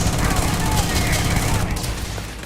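Sustained gunfire in the space game Starfield: a loud, continuous barrage of overlapping shots and impacts, dense and close, with no breaks.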